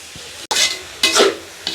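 Leeks, cabbage and carrot are stirred in a hot pan in a village kitchen, bringing three short bursts of sizzling and scraping, each rising then fading, with quiet frying between.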